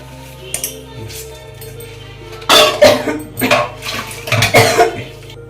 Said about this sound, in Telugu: గిన్నెలు ఎలా తోమాలండి ఎలా బ్రష్ పెట్టి ఎలా ఎలా తోమితే మంచిగా తెల్లగా తలతలు ఆడిపోతాయి